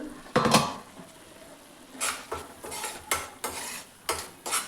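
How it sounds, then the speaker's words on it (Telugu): Masala fries and is stirred in a pan, a soft steady sizzle broken by several scraping strokes of a spoon against the pan, some sharp and bright, repeating at irregular intervals with no talk. "ఆ మసాలా అంతటిని బాగా ఫ్రై చేసుకుంటున్నాను"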